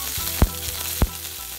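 Pork belly fries in a pan with a steady close sizzle, broken by two brief thuds or knocks as pieces are shifted.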